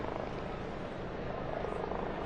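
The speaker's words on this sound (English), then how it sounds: "And you can hear the helicopters." Helicopters hover above St. Peter's Square during a papal election, producing a steady low droning rumble that sits at a moderate distance for the whole stretch, without clear speech over it.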